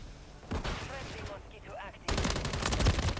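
Rapid automatic gunfire from an online Call of Duty Modern Warfare 3 match, loud bursts of shots starting midway and growing denser toward the end, with game effects and a brief voice beneath.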